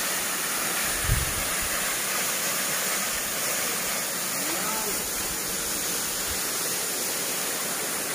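Steady broadband roar of the Sungai Pangin waterfall in a Kalimantan forest, flowing at low volume, with a couple of brief low thumps early on.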